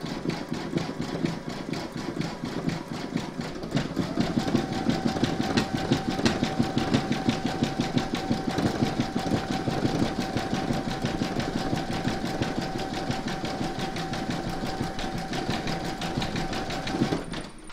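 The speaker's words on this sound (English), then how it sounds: "Load your matching bobbin and thread into your machine for the satin stitching" An embroidery sewing machine satin stitching a large square scallop placemat in a hoop, giving a fast, steady mechanical whirring with rapid needle ticks that grows louder after a few seconds and runs on continuously with no talking.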